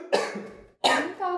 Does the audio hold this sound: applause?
no